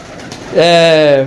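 A Kasuri pigeon gives one drawn-out, resonant coo, close and fairly loud, after a brief stretch of quiet background.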